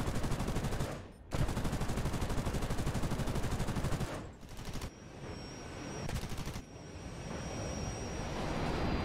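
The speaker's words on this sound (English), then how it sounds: "Squadron Leader Wilson, opened fire at one of the MiGs, but he very soon felt hits on his own aircraft" Rapid bursts of aircraft cannon fire during a Korean War dogfight between Australian Gloster Meteors and MiG-15s, loud and sustained, broken by a few short gaps.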